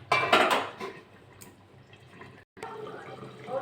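A lid goes onto a cooking pot in a home kitchen while a potato and pointed gourd curry with prawns cooks: metallic clatter and clinks at first, then softer handling and a low simmering hiss.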